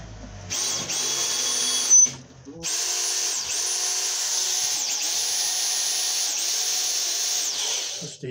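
Rotary hammer drill fitted with an AliExpress drill chuck spins a fresh bit, a loud steady high whine running for several seconds, briefly stopping near two seconds then resuming with slight speed dips throughout.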